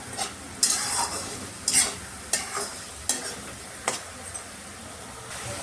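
Tomato masala cooking in oil until the oil separates, stirred with a spoon: a soft, steady sizzle broken by a series of close, rhythmic scraping strokes about once a second, with no voices.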